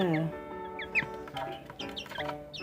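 Fancy chickens clucking up close, a string of short, bright clucks and squawks from a small flock, steady and lively with no talking.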